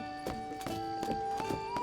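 Horse in Zelda Tears of the Kingdom, a brisk series of clip-clop hoofbeats in even rhythm over a sustained tonal game music bed, with no clear neigh standing out.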